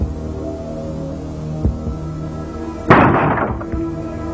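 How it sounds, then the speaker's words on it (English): A single loud, sharp bang lands against a door in a house, a heavy impact with a short rumbling tail, preceded by a fainter knock amid low hum. "The bang at the door was immense."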